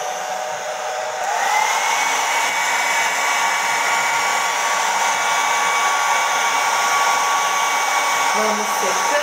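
A hair dryer blows steadily and loudly up close, drying paper to reveal a secret message, with one continuous whooshing roar from start to finish and no talking.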